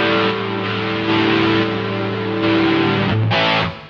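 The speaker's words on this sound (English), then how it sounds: "Turbo overdrive." Electric guitar played through the turbo overdrive patch of an ART SGE rack multi-effects processor, sustained distorted chords ringing out loud and alone, with a brief change of note near the end before fading.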